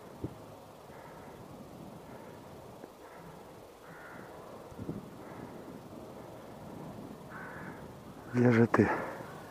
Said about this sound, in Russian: Там что вороны там плещутся?